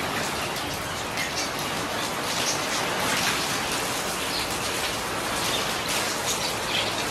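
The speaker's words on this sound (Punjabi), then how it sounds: "ਬਾਰਿਸ਼ ਦੇਖੋ ਬਾਈ ਪੂਰੀ ਆ ਗਈ" Heavy rain pouring down, a dense continuous hiss of drops on surfaces, steady and fairly close, with faint bird chirps in the background.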